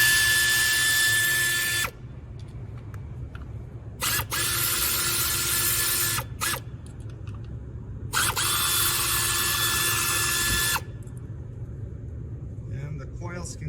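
Power tool with a 10mm socket removing parts from a Lexus RX350 engine, whirring in three loud close bursts of a few seconds each, separated by quieter pauses and light rattling.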